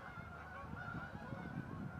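Geese honk faintly as they fly over an outdoor spot, a scattered run of distant calls under steady background noise.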